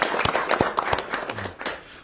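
Brief scattered applause in an indoor meeting room at a government budget-savings roundtable, a few seconds of close hand claps that thin out and fade.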